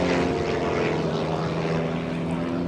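Blue Angels jets approaching at close to 400 mph during an airshow loop setup: a continuous loud engine roar with a steady droning hum, constant and unbroken.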